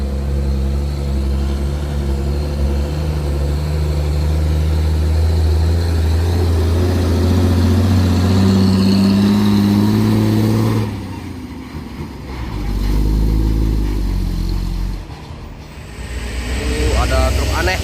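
Toyota Kijang Kapsul engine labouring up the steep Bukit Kodok hill, reversing on the climb, a loud steady low drone for most of the clip that drops near the end as the revs change, with voices talking over it.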